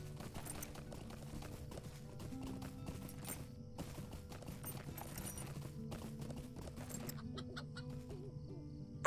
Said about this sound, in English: Look at all these chickens.